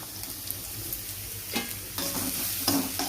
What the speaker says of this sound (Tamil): ஒரு பச்சை மிளகாய் கட் பண்ணி போட்டுக்கிறேன். வெங்காயம் ஒரு 4-5 பொடியாக கட் பண்ணி போட்டுக்கிறேங்க.